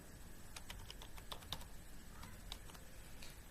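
A password is typed on a computer keyboard in a quiet room, a quick uneven series of soft, close key clicks.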